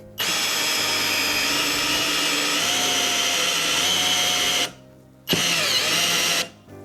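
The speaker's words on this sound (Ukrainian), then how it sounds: "давайте свердління." A cordless drill-driver in drilling mode runs loudly and continuously for several seconds, pauses briefly, then spins again in a second long burst, close up.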